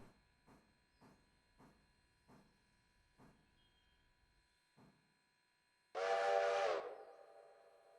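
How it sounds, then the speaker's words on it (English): A locomotive in the Railroader game gives one loud, sustained steam whistle blast of about a second. Before it comes a steady series of soft, evenly spaced clanks, and the blast tails off into a hiss. "One whistle blast signifies that you've stopped."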